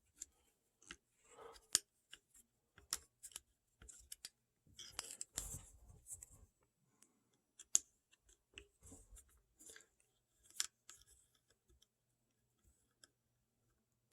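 Faint, sparse clicks and small metallic ticks come close up as an Allen wrench turns a screw out of the bottom of a Haslab Proton Pack, in otherwise quiet surroundings.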